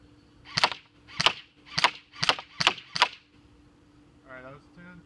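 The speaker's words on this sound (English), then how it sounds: "I'll stick it on semi-automatic, shoot at 10 yards and 20 and 30" An APS ASR 114 airsoft rifle firing on semi-automatic at an outdoor range, six sharp close shots spaced about a second apart, followed by a brief voice.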